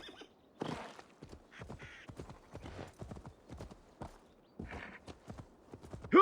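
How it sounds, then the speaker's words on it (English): Horse hooves clip-clop at a steady walking rhythm in Assassin's Creed Valhalla, clear and fairly close, with brief bursts of other game sounds between the steps. "Come on, horsey."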